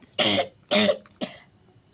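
Three short, harsh coughs in quick succession, close and fairly loud, with brief pauses between them and nothing else around.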